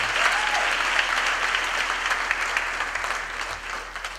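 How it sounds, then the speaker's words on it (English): Steady applause from a large audience at a university graduation ceremony, dense and sustained, filling the hall at even loudness. "Let's give them a big round of applause."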